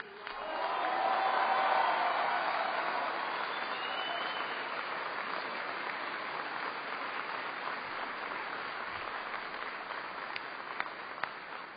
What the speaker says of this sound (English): I want everyone to give a big round of applause to the amazing families who serve along with you